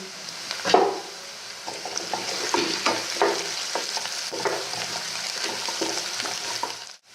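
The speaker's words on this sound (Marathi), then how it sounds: "कांदा गुलाबी रंग येईपर्यंत परतून घ्यायचा" Onion sautés with ginger-garlic paste for Saoji dal kanda, a continuous close sizzle with repeated scraping strokes of a spatula through the pan, fading out at the end.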